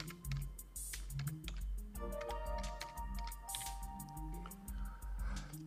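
Rapid keystrokes on a computer keyboard entering a department name, a busy run of close, clicky taps with a few short pauses, no talking.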